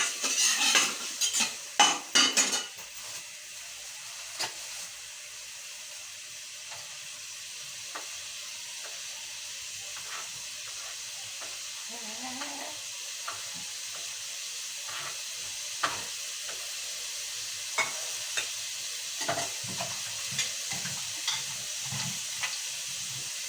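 Onion, garlic and tomato sautéing in a pot with a soft, continuous sizzle, a cluster of spoon clatters at the start and occasional scrapes and taps afterward, close but quiet, no voices.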